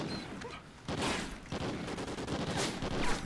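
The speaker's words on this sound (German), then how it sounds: "Hauptsache, ich werde jetzt beschossen" Gunfire in the video game Call of Duty: Ghosts, bursts of rapid automatic shots and blasts crowding together, loud and dense, with a voice talking faintly beneath.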